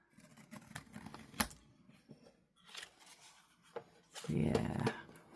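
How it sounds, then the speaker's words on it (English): Larger scissors trimming paper for a Halloween junk journal, several quiet crisp snips and rustles scattered between short pauses, with a louder rustling burst near the end. "I'll get my larger scissors out to trim this"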